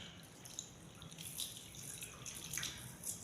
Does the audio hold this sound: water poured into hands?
yes